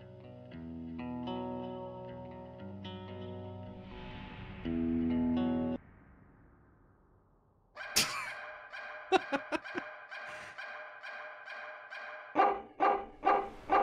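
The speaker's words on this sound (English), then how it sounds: "now he's got big boy bark" A big dog barks in the video game Giraffe Town, a string of loud, punchy barks with effect-laden processing, coming after a stretch of layered game music and tones.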